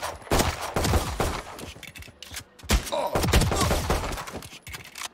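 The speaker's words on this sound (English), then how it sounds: "Don't mind me, just getting shot by bots." Gunshots from bots in Valorant's training mode, rapid bursts of sharp cracks in two dense volleys with a short pause between them, loud and close, with thuds and clattering mixed in.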